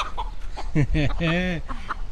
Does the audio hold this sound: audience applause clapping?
no